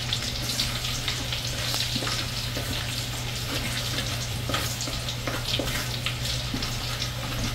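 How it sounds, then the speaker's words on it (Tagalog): Garlic sautéing in oil in a pan after frying galunggong fish, a loud, continuous crackling sizzle with light stirring taps throughout. "So, magigisa na tayo ng bawang."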